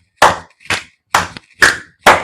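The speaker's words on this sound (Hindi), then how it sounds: "ये ताली मुद्रा वो मुद्रा है, बस आप करके देखो ऐसे आराम से।" Five sharp hand claps spaced about half a second apart in a tali mudra yoga exercise, loud and close, each a crisp slap with a quick decay and no talking between.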